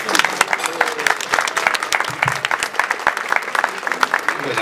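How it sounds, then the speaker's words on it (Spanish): Guests at a silver anniversary celebration applaud, with loud, close individual claps standing out over a busier crowd clapping and scattered voices talking in the background. "Un aplauso, por favor"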